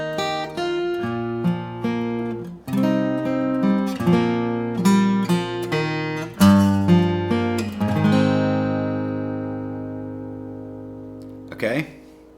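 Strummed acoustic guitar chords move through a short progression, each ringing out, ending on a sustained chord that fades, then a final light strum.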